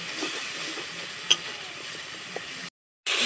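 Masala with Kashmiri chilli powder sizzles steadily in a pan as a splash of water goes in, a close, even hiss with a few small pops, then a brief cut to silence before the sizzle resumes.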